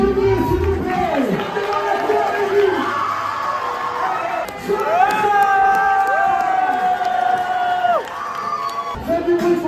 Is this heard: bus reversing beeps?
no